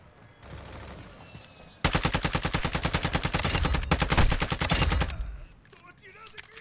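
Sustained automatic gunfire in Call of Duty DMZ bursts in loud and close, a long rapid string of evenly spaced shots running for about three seconds before cutting off, with quieter game ambience and faint talk before and after.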